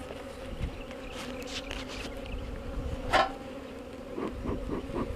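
Honeybees shipped up from Georgia hum continuously around a nuc, a low steady drone with one bee zipping loudly past close by and scattered fainter buzzes around it.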